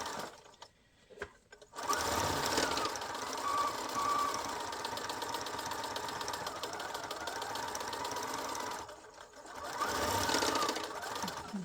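A sewing machine stitches adhesive-backed binding onto a square-cornered art quilt, a close, steady mechanical hum and rattle that runs for several seconds, stops briefly, then starts again for a shorter run.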